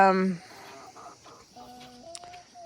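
Backyard rooster clucking among a summer garden flock, a short loud call up front followed by softer scattered clucks and bird chirps nearby.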